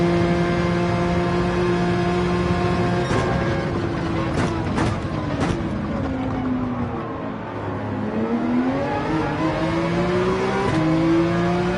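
Race cars roar in a Gran Turismo 7 drag race on the Sardegna track, loud sustained engine drones with rising and falling revs, gear shifts and overlapping cars.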